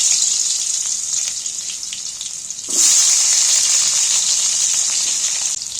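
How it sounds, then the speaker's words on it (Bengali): Cut potatoes fry in oil left from frying hilsa fish: a steady hiss that surges louder midway as more pieces go in, then holds a bright, close, continuous sizzle with no voices. "মাছের তেলের মধ্যেই আলু কাটা আলুগুলো তুলে দিচ্ছি"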